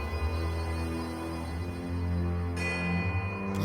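Many bells ring together in Pillars of Eternity II: Deadfire, a dense, sustained wash of layered metallic tones that holds steady and swells slightly toward the end, with no voices.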